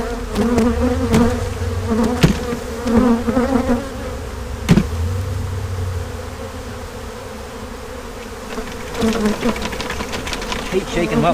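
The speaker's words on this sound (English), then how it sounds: "I'm going to dump some bees in here." Dense, close buzzing of many swarm honey bees humming continuously as they are dumped into a new wooden hive, with a few knocks and thumps against wood mixed in.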